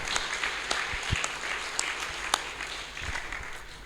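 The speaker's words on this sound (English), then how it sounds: "Let's give them a round of applause." An audience at a Sunday temple program applauds, dense steady clapping from many hands filling the room at a moderate level, with a few sharper individual claps standing out.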